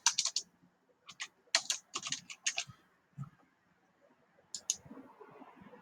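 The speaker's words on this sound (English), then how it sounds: "So I type in UJAT" Someone types on a computer keyboard, tapping out short bursts of quick, light clicks separated by brief pauses. The keys sound close and fairly quiet, with no voices.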